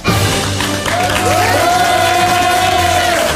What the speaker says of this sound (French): Il est bon de se faire applaudir.